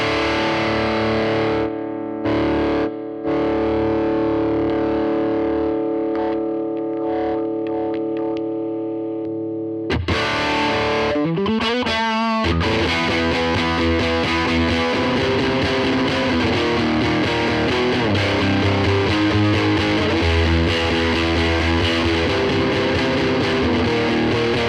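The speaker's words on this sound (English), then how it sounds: "so is this the fuzz wah?" Electric guitar run through a fuzz wah effect in AmpliTube 5, loud and saturated: sustained distorted notes first, then a sweeping wah burst and a dense, continuous fuzzy riff, with no talking.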